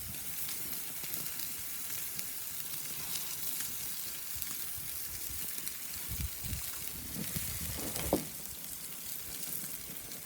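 Cowboy rib-eye steaks sizzle on a grill with a constant bright hiss and occasional pops and crackles, steady and moderately quiet with no talking.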